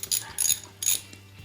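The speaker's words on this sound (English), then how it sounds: "as I remove this last bolt, you'll see the axle just come off." A ratchet wrench clicks in three quick bursts as the last bolt comes off a Porsche 911 axle at the CV joint, close and crisp against a faint steady hum, with no talking.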